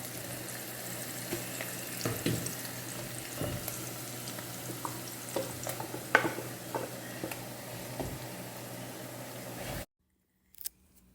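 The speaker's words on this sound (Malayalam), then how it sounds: "ഈ എണ്ണയിൽ ഈ അരപ്പ് നന്നായി ഒന്ന് മൂപ്പിച്ചെടുക്കുക" Ground roasted coconut spice paste fries in hot oil for a chicken curry, giving a steady, faint sizzle with scattered clicks from stirring. The sound cuts to near silence at the end, and nobody speaks.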